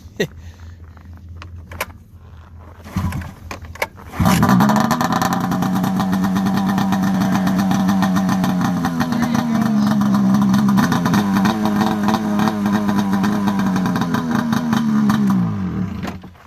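After some clattering, an Alpha One motorcycle engine fires up and runs loudly with a deep, throbbing exhaust, revving slightly before cutting off at the end.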